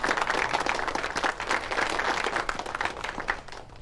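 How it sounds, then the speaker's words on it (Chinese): An audience in a county council chamber applauds steadily for about four seconds, a dense, continuous clatter of many hands that holds at an even level from start to finish. "大家鼓掌"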